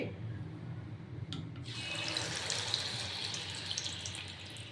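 Ladle of Bengali malpua batter made with flour and thickened milk kheer hitting hot oil: a sudden burst of dense, close sizzling and crackling that swells and holds steady at a low flame, with no talking.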